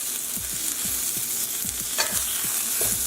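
Bone-in, skin-on chicken pieces sizzle in olive oil in a pan just after being flipped, with a constant bright hiss and a few soft spatters and pops up close.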